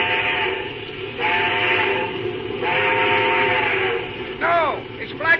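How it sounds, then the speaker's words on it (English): A steam locomotive whistle sounds in two long, steady blasts on a railway line at a red signal, under voices talking, with a few rising tonal calls near the end. "Sure, I'll give him the whistle"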